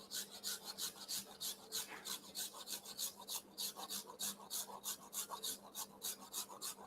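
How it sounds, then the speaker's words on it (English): A baked gingerbread house panel is scraped with quick, even back-and-forth strokes, producing a soft, dry rasping rhythm repeated many times, close and fairly quiet with no talking. "Okay, so I'm going to continue scrape this one out."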